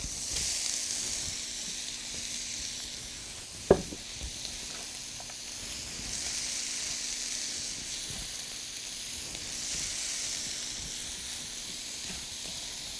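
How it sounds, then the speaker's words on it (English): Chopped cabbage sizzles in a skillet with bacon, a continuous close hiss of frying with gentle swells, interrupted by one sharp tap of a utensil near the start. "The cabbage is ready. It's chopped. So I add it to the skillet."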